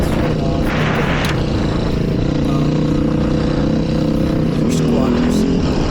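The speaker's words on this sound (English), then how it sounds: "Start it, you gotta rev it up for 6 seconds, and shut it off." A 2020 Beta 500 RR-S motorcycle engine revs hard and steadily out in the desert, a loud continuous roar with small swells in pitch that runs unbroken from start to finish.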